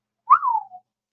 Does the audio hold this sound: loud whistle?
yes